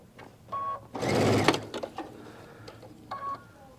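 Sewing machine stitching quilt sashing in one short, loud burst of whirring, framed by a few faint clicks and beeps nearby.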